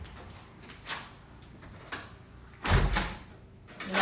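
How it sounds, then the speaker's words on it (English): A door being shut indoors, with a few light clicks and rattles followed by a heavy thud as it closes, near and fairly loud. "I'm going to shut my door"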